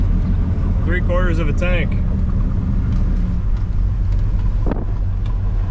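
A 1970 Oldsmobile Cutlass W-31 engine holds a steady, loud low rumble at around 2,000 RPM while the car is driven, with wind noise and someone talking over it.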